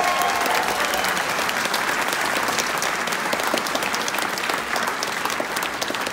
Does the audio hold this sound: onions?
no